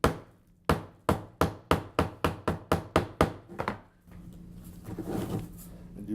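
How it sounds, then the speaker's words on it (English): A hammer taps a glued-in piece about a dozen times in a quick, even series of sharp knocks, each with a short ring. The taps then stop, leaving faint rustling and handling noise. "take a hammer"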